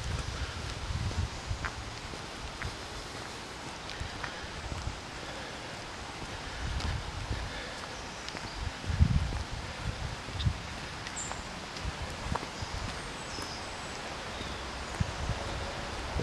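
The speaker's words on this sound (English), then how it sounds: "enjoy the noise of the wind going through the trees" Wind moving through trees in Rivelin Valley, Sheffield, a steady broad rush of rustling leaves and gusts with some microphone buffeting, continuous and fairly loud with no talking.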